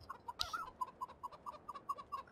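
A steady series of soft, evenly spaced clucks comes from chickens in the farm video game Farming Simulator 2015, with one brief louder squawk early on and no talk.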